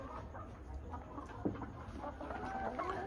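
Hens cluck softly inside a laying henhouse, a faint, continuous murmur of fowl with a brief louder knock partway through.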